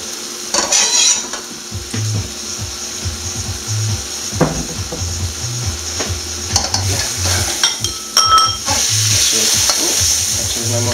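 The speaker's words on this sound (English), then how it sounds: "trying to get the sauce to boil up a little bit" Seafood pasta sauce with baby plum tomatoes bubbles and sizzles in a pan, a close, continuous frying hiss with stirring clinks of utensils against the pan and no talking.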